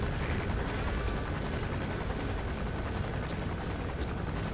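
Helicopter in the video game Metal Gear Solid V: The Phantom Pain, a dense continuous rotor and engine drone, steady and fairly loud, with no speech.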